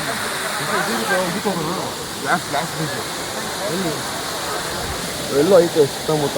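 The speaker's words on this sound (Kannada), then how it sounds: "ನೋಡ್ಕೊಂಬಿಡಿ ಅಬ್ಬಿ ಫಾಲ್ಸು" A steady, full rush of water from Abbey Falls waterfall fills the scene, with people talking over it throughout.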